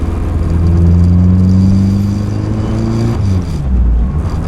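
A Nissan Cefiro with a swapped K24 engine pulls on light throttle, its steady mid-pitched drone rising smoothly in pitch, loud and close from inside the car, easing off near the end.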